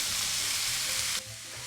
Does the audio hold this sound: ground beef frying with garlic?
yes